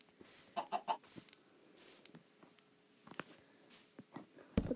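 Chickens in the video game Minecraft cluck in short bursts, with a quick run of three clucks early on among scattered soft clicks and a louder sound right at the end.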